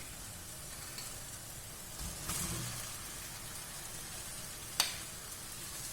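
Potato curry masala fries in a pan with a steady, soft sizzle. A brief stirring scrape breaks in partway through, and a sharp clink of a utensil sounds near the end.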